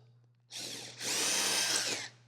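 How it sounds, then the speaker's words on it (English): A power drill with a 7/32 drill bit drills holes, whining in two close bursts: a short spin, then a longer high-pitched run before winding down, over a faint low hum. "All I gotta do is find my mark, drill my holes."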